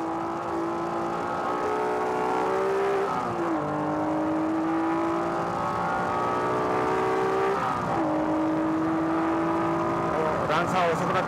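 Race cars, including a Honda Civic Type R, run down the Fuji Speedway straight during a 1998 endurance battle, engines droning steadily with sliding pitch shifts as they pass, loud and continuous under a commentator's talk.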